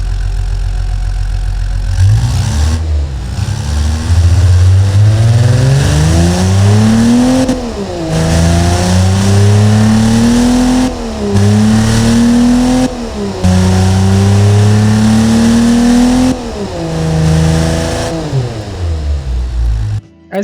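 A 1974 Ford 300ci inline-six in the Automation game, fitted with a custom high-flow exhaust, starts up and runs. It idles, then revs repeatedly in steady rising sweeps, loud and close, with no talk over it.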